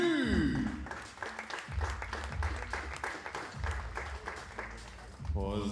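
Applause from the audience at a women's 50 m rifle 3 positions shooting final greets Chinese shooter Xie Guanyu as she is introduced. Moderate, steady clapping runs under an announcer's voice.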